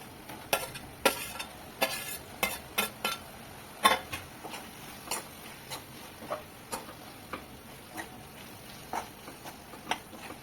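Fried vegetables for a Maharashtrian kartulya bhaji (spiny gourd curry) are stirred into masala in a pan, with quiet sizzling under regular sharp scrapes and knocks of a spoon against the vessel.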